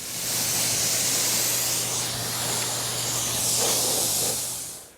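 Wheel cleaner is sprayed onto a car wheel and tire in a long continuous hiss from an aerosol or pump sprayer, close and steady for about five seconds.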